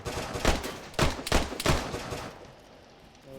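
Several sharp gunshots crack in quick succession in the video game DayZ, loud and close, then the firing stops and only a quiet background remains with one more burst at the end.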